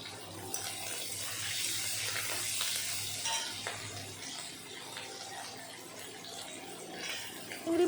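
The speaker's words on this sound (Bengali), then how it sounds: "এখন কুচানো চিংড়ি মাছগুলো ভালো করে একটু ভেজে নেব" Chopped shrimp with turmeric and salt fries in a pan for a fenugreek-greens dish, giving a steady close sizzle with occasional stirring scrapes throughout, and no talking.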